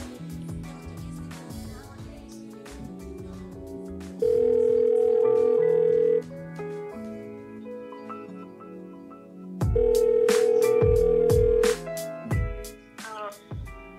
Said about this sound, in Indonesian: Kita telepon Ica.